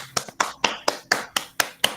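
Applause for a guest comes as about eight crisp, evenly spaced hand claps, close and sharp, each ringing briefly before the next.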